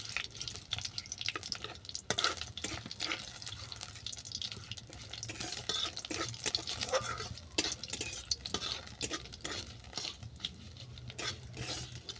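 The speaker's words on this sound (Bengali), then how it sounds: "ফোড়নটাকে ভালো করে ভেজে নেবো" Panch phoron whole spices fry and crackle in a pan as the tempering for a chalta lentil dal, with scattered sharp pops and sizzles over a steady hiss. Nobody speaks.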